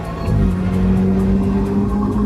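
A BMW F30 328 running Stage 2 tuning with an intercooler, straight pipe and upgraded intake accelerates hard in a race. It gives a loud, sustained engine drone with a steady rising tone and no speech over it.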